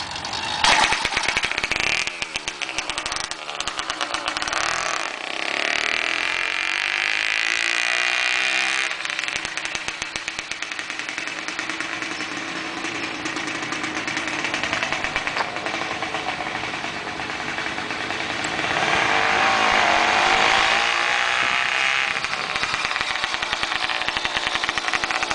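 A PedalChopper Wide Ride Deluxe motorized bicycle engine, started by pedaling and dropping the clutch, buzzes steadily and loudly for the whole stretch, its small two-stroke-like drone rising and falling with throttle.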